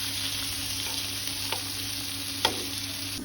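Fresh pomfret fish frying in a pan with green chillies, a continuous close sizzle with a few faint clinks and one brief sharper tap, no voices.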